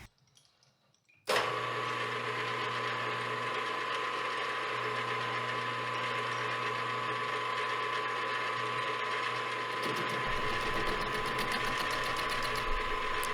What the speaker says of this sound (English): turn this edge down on the lathe